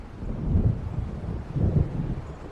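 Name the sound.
thunder of an approaching storm in video game Alan Wake Remastered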